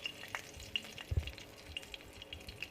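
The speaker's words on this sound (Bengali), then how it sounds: "তেল দেখো গরম হয়ে গেছে, এবার গোটা গরম মশলা আমি দিয়ে দিচ্ছি তেলে" Whole garam masala spices sizzling in hot oil for keema, a steady close crackle with a few brief pops and a soft clatter near the middle.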